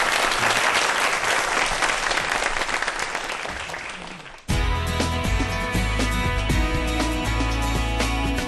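An audience claps to welcome a lecture by a rocket scientist about Korea's Naro rocket, a loud dense burst that fades over four seconds before music abruptly cuts in and takes over.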